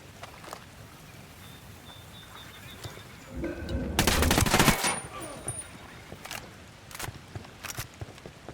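Gunfire in the Ghost Recon Wildlands video game: a dense, loud burst of automatic shots in the middle, with scattered single shots before and after against a quiet background.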